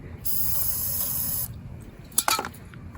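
A steady aerosol spray hisses for just over a second into the carburetor of an ETQ portable generator, then stops; a few mechanical clicks and rattles follow.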